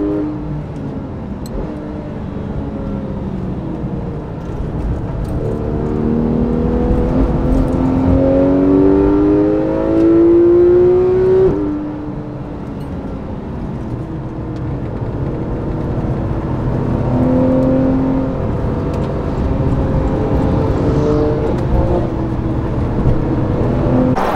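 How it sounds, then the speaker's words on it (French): Fast cars on a race track with a large banked curve approach with rising engine whine, engines sweeping upward in pitch as they draw near and pass, then a second wave arrives, loud and continuous throughout. "Ah, j'ai les voitures rapides qui arrivent."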